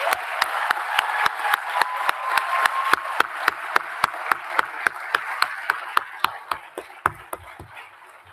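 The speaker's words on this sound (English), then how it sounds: "Let's give them one more round of applause." A small audience at a manufacturing-program graduation ceremony claps for the graduates, sparse distinct hand claps in a loose steady rhythm that thin out toward the end, moderately close with a faint voice underneath.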